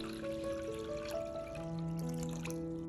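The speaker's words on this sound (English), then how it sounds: "Add 1 teaspoon of salt and 1 liter of water." Water pouring and trickling into a large bowl with a teaspoon of salt, faint and steady, with a low tonal hum in the background.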